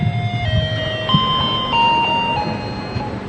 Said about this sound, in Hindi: घंटियां ऐसी खुफिया लगाई हैं